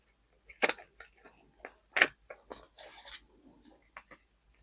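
Scissors snip gently through planner paper in a few crisp, close cuts, with soft rustling of the paper between them.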